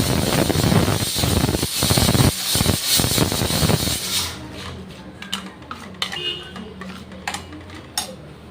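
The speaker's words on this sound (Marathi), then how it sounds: "सारखं मसाल्याला हलवत राहायचं, म्हणजे कसं खाली मसालाही लागणार नाही." Chicken masala roasts in a pan as a spoon stirs and scrapes it, a dense sizzle with rhythmic scraping for the first half, then quieter sporadic clinks and taps against the pan.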